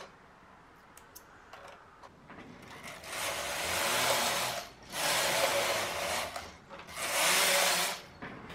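A domestic knitting machine carriage knits a skirt waistband at a tighter tension, making three long, loud, rushing sweeps back and forth, separated by brief quiet clicks.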